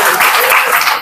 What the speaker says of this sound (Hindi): तालियां बजा दो भाई इनके लिए।